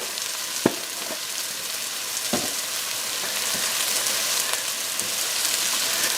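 Freshly ground garlic sizzles and fries loudly in a pan for beef stroganoff, a dense, steady crackle close up, with a few spoon knocks and stirring scrapes and no talking.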